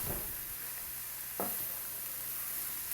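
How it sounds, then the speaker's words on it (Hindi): Onions and capsicum fry with mince in a pan, a constant sizzle broken by two clattering strokes of a spoon stirring the mix, close and alone. "अब हम इसको अच्छी तरह मिक्स करेंगे"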